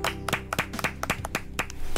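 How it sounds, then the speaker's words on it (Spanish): Single pair of hands clapping in an uneven rhythm, about a dozen sharp, close claps over a couple of seconds during a Spanish-language television program, with no talking. "Solo quiero darte un aplauso porque lo haces maravilloso."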